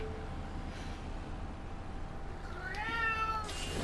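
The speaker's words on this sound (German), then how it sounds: "Ich muss mal Katze kurz rauslassen." A single drawn-out cat meow rises near the end, heard fairly close over a steady indoor background hum.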